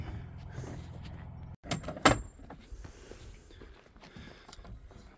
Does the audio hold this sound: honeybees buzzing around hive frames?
no